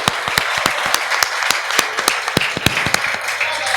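A poetry gathering's audience claps loudly in a dense round of applause with sharp individual claps standing out up close, welcoming a poet to the stage.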